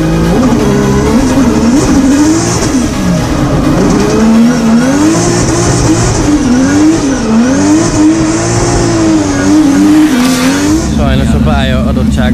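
Drift race car engine droning loudly throughout a practice session at a drift championship round in Płock, a steady wavering rev with tire noise, close and dominant, ending with a shift in tone.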